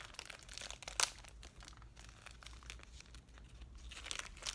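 Plastic packaging around a Gucci item being cut open, a faint close crinkling and crunching of plastic with a few sharper snips and tears, alone without talk.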